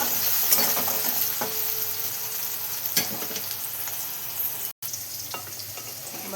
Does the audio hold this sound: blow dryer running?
no